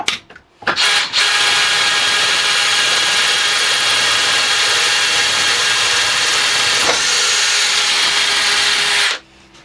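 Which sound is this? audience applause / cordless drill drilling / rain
cordless drill drilling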